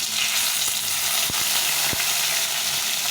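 Dried chili, cumin seeds and a bay leaf hitting hot mustard oil in a pan, giving a loud, steady crackling sizzle up close with a few sharp pops, no voices.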